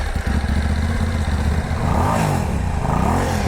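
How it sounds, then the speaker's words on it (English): Stock Euro 4 exhaust on a 2018 Moto Morini Corsaro ZZ motorcycle, heard up close as a loud, steady idle that climbs into two rising revs before settling back down, with no talking over it. "it's got one of the sweetest sounding exhaust notes I've ever heard, especially stock"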